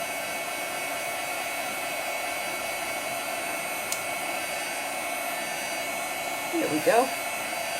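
A handheld hair dryer blows continuously and close by, drying fast-drying gesso on an altered book journal page, with a steady, even whoosh throughout and a brief spoken remark near the end.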